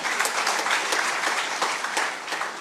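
A political rally crowd claps in a short, dense burst of applause, steady and fairly loud with no talk over it.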